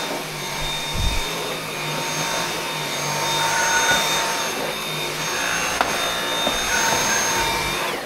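A carpet cleaner roars steadily on carpet in a close, constant drone with a few faint knocks and bumps, and no talk over it.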